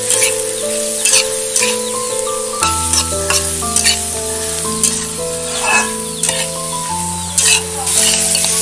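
Cauliflower sizzles and fries steadily in hot mustard oil, with a constant crackling hiss and occasional stirring clatter throughout, no talking.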